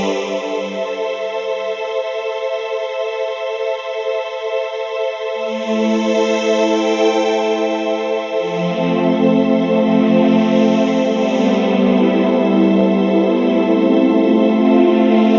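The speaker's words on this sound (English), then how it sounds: "it's going to smear it and kind of lock it in time" An Artium Swarm effect pedal smears a guitar chord and freezes it into a sustained, shimmering drone, with tones shifting and layering as new notes are caught and held, loud and continuous throughout.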